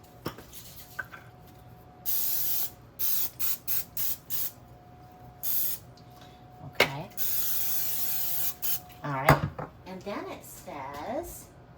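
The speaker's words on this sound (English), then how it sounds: "spray the tortillas with cooking spray" Repeated short bursts of aerosol cooking spray onto tortillas, hissing in quick bursts, with a few clanks and soft rattles between them.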